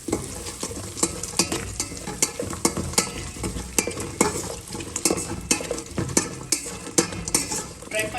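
Mixed sprouts fry in a pan for a sprouts pulao and are stirred with a utensil, giving a steady close sizzle broken by a regular series of scraping strokes against the pan.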